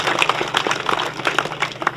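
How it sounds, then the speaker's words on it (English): Crowd clapping in a round of applause at the official opening of the Kilmichael sports complex, a dense, steady patter of many hands, moderately loud and continuous. "I ask you also to give them a special round of applause"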